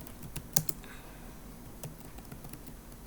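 A few scattered keystrokes on a computer keyboard as a search word is typed, quiet and close, with soft clicks spaced irregularly and low room hum between them.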